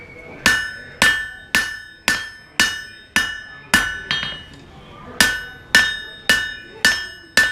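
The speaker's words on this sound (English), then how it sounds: "Now I'm going to turn it the other way and hammer that side." Sharp metallic hammer strikes ringing on a heated knife blade being straightened, about a dozen evenly spaced blows with a brief pause midway, each note decaying quickly.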